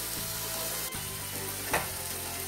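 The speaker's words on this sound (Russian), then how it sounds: "Курочка потихоньку поджаривается" Chicken and onion fry in a pan, giving a steady, fairly quiet sizzle with a brief stirring scrape.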